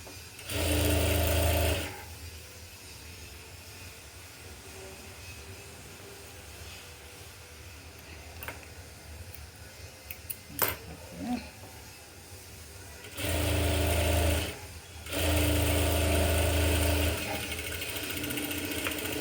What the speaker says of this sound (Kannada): ಹೊಲಿಗೆ ಹಾಕ್ಕೊಂಡಾಯಿತು ನೋಡಿ, ಎಷ್ಟು ನೀಟಾಗಿ ಬಂತು ಅಲ್ವಾ